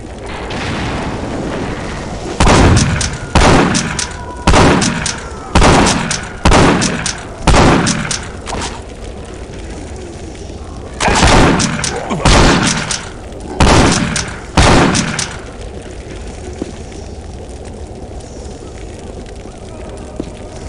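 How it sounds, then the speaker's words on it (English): Grenade launcher explosions from the video game Postal 2 boom in two loud bursts of about six blasts each, spaced closely over roughly fifteen seconds against a low game ambience. "Is that a grenade launcher?"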